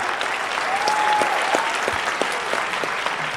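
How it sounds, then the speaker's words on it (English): Audience applause fills a panel discussion room, a steady wash of many hands clapping at close range, with no speech over it. "she's getting claps on every one of her answers"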